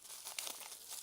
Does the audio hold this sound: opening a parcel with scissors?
yes